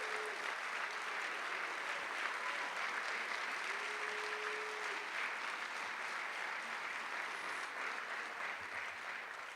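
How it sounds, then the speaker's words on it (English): An audience at a State of the City address applauds a snowplow driver in Kansas City, with dense, even clapping that holds steady for several seconds and then begins to fade slightly. "let's give our best snowplow driver in Kansas City a short round of applause"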